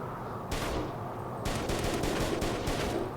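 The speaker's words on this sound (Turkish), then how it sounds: "Tarmalı tüfekle deneyelim şuna." A pump-action shotgun fires in a VR zombie shooter game: several loud, close, sharp blasts spaced about a second apart, with no voices.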